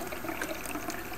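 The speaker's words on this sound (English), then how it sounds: "Decide to pour out some more wine." Wine poured out in the Ben Jordan paranormal investigation video game, heard as a soft, continuous liquid trickle and splash throughout, faint and steady with no talk.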